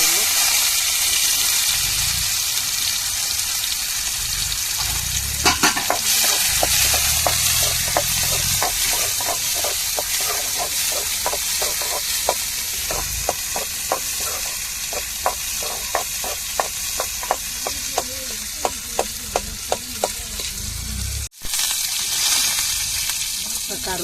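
Small onions sizzle steadily in hot oil for a fish curry, close and loud, with a spoon stirring and scraping the pan in quick repeated strokes.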